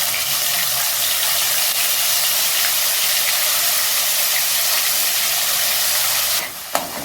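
Whole spices dropped into hot oil for a vegetarian curry, a steady loud sizzling hiss that continues unbroken throughout, with a brief clink near the end.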